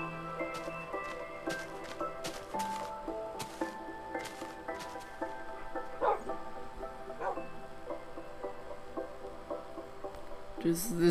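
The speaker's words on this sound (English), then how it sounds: "This dog is just staring at me right now" A dog yips and barks in the video game Minecraft, giving short bright barks and whimpers in quick clusters over a soft hum, some louder than others, with a voice talking in places.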